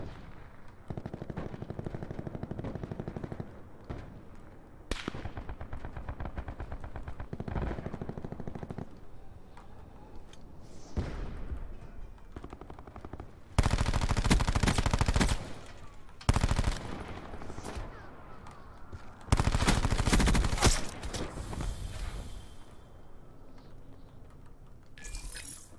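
Automatic weapon fire from Call of Duty Black Ops 4 comes in repeated loud bursts, with several heavy, close volleys in the second half separated by quieter stretches of game ambience and occasional talk.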